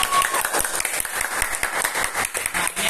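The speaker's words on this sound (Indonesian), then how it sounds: "beri tepuk tangan dulu untuk kita semua" A classroom group claps together during a statistics lesson, a dense, steady patter of many hands that fills the short moment fairly close by, with no talk over it.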